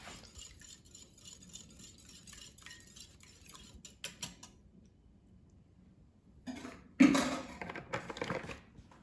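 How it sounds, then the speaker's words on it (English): Yellow cake batter being stirred with vegetable oil in a bowl, a quiet scraping and clinking of utensil against the bowl, growing louder and more vigorous toward the end. "So this is vegetable oil, 1/4 cup. And now let's mix it until combined."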